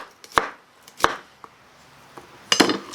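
A knife chops through an onion on a cutting board in a few sharp, separate strikes, about three distinct thunks spaced unevenly, close and crisp against near silence.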